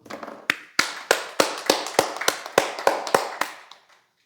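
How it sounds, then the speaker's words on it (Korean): Students in a Korean high-school math class give a short round of hand claps, about a dozen sharp, evenly spaced claps over four seconds, fairly close and clear with no talking. "박수."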